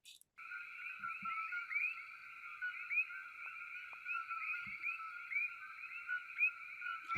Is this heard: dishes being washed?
no